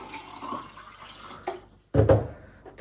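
Water runs from a tap for drinking, a soft trickle that stops briefly, followed by a louder close splash of water filling a container.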